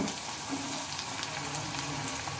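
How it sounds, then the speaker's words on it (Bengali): Onion frying in oil, a constant bright sizzle with fine crackle close by, heard alone without talk. "তেলের সাথে পেঁয়াজটাকে ভালোভাবে ভেজে নেব"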